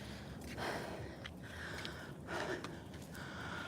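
Close, quiet nasal sniffs and breaths repeating every second or so against a steady outdoor background hiss, on a hiking trail between Lake Mead and Hoover Dam.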